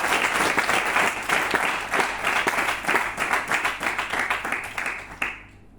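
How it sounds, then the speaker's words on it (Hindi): Enthusiastic audience applause at a business success-strategy seminar, many hands clapping densely and steadily for several seconds before trailing off at the end. "तो एक बार जोरदार ताली चाहता हूं"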